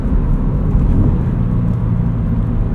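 A 2014 Subaru BRZ engine rumbles in a steady, loud low drone while the car drives along, blended with road and cabin noise and no voices.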